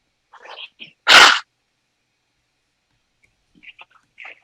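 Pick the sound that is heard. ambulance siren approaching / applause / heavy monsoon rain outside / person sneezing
person sneezing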